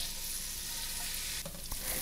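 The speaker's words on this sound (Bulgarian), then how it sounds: "И ще ги задушавам така за около 4-5 минутки, като от време на време ще ги разбърквам." Carrots and other vegetables sautéing in a pot for potato soup with peas, a steady quiet sizzle joined briefly by a couple of soft stirring scrapes near the end.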